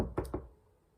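Knocking on a house wall: two or three quick, close knocks in fast succession, each a sharp thud that fades quickly into quiet room tone.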